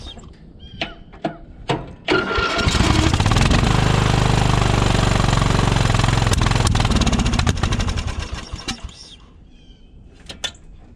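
A riding mower's engine, left abandoned for years, cranks a few times with the choke on, then catches and runs loud and rough for several seconds before sputtering out, followed by a few more short cranks.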